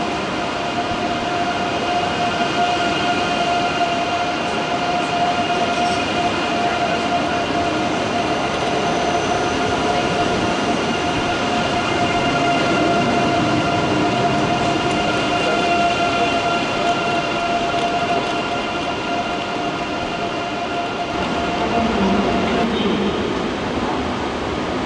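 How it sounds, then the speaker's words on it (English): IC3 intercity train Arnhem, a Dutch unit running a service to Frankfurt, moves steadily through Köln Hbf with a loud continuous rail rumble and faint sustained wheel tones, with no talk. "IC3 Arnhem, having started its journey in Brussels Midi, despite being one of the Dutch ones, now forms a service to Frankfurt Hauptbahnhof."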